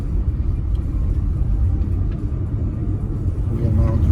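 Interior of a car driving through sunny Belgrade streets, a steady low road and engine rumble lasting throughout, with a faint click or two and a slight swell near the end.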